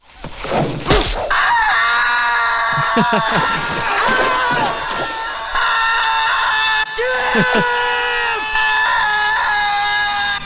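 A man screams loudly and at length in a played film clip, with sustained high-pitched wailing broken by gasps, groans and brief thuds, close and dominant throughout.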